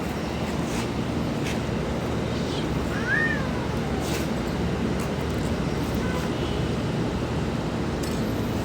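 Pet cats, two of them lame and one pregnant, give a few faint, brief meows over steady wind and outdoor background noise.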